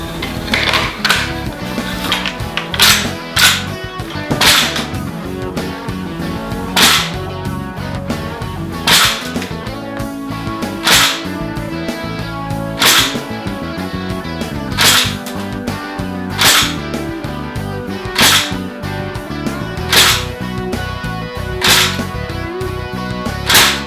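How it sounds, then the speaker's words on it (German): A SHOEI Gewehr 43 airsoft gas blowback rifle fires about a dozen sharp, loud shots through a chronograph at irregular intervals of one to two seconds, each a crisp crack with mechanical clatter, over a steady hiss. "Mit einer HPA-Füllung können wir 12 Schuss rausschießen"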